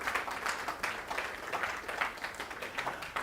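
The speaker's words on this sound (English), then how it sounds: "Let's give her a round of applause." An audience at a live congregational gathering applauds warmly, a dense, steady wash of many hands clapping throughout.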